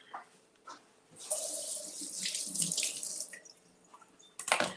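Water runs from a kitchen tap into a sink during cleanup after cooking gravy, a loud rushing stream for a few seconds with faint clinks before it and a brief splash at the end.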